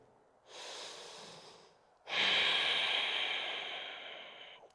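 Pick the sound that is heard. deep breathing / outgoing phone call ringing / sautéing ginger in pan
deep breathing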